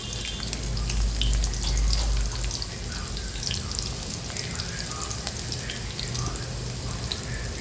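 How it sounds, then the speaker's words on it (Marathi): Onion frying in oil with mustard seeds and cumin, a steady close sizzle with scattered crackles and pops, slightly louder in the opening seconds, with no talking. "2-3 मापं तेल टाकलेलं आहे. मोहरी टाकली अर्धा चमचा, जिरे टाकले, एक कांदा टाकला"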